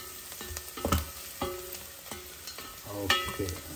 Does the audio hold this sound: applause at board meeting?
no